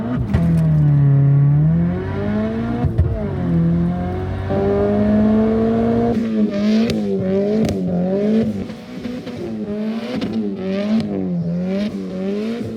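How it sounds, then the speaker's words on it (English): A turbocharged JDM Subaru Legacy, already totaled from a rear-end collision, driven hard in snow: loud engine revs climb and fall repeatedly, with quick throttle bursts and shifts, up close and continuous with no talking. "My pal Cam got his JDM Legacy rear-ended and totaled, so in this video we just beat the crap out of it"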